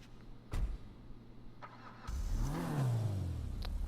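Maibatshu Penumbra FF car in GTA Online: a low idle, then the engine revs up with a rising and falling sweep and holds a steady loud drone, with a sharp click near the start.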